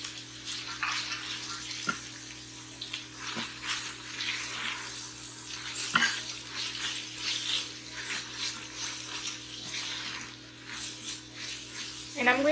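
Onions, green beans and carrots fry in an Instant Pot for egg biryani, giving a steady close sizzle and hiss with occasional clinks of a utensil against the pot.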